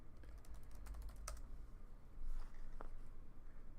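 Quiet, quick keystrokes on a computer keyboard as router configuration commands are typed, a close run of soft clicks with a few sharper taps.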